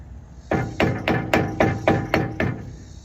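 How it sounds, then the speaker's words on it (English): Seven or eight light, evenly spaced taps seat an aluminum brake part on a 1985 Dodge, each a crisp close metallic knock with no talk. "Just very lightly tap it. You don't want to bend this thing, it's aluminum."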